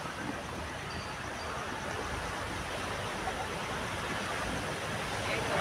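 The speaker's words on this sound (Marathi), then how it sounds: "अगदी कंटिन्युअस आहेत लाटा." Rough sea on a full moon day in November, a continuous broad roar of surf with waves rolling in nonstop and no break, steady and fairly distant, with no one speaking.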